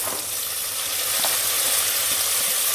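Onion and garam masala frying in hot oil in a home kitchen, a steady close hiss and crackle with light spattering throughout, no voices.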